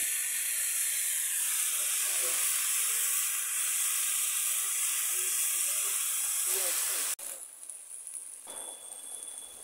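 Sponge gourd (dhundul) frying in a pan: a loud, steady hiss and sizzle that suddenly drops to a quieter, uneven crackle partway through.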